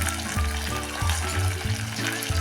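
Sabudana vadas deep-frying one by one in hot oil over a low flame, a loud continuous bubbling sizzle close by with a few soft clinks, no talking.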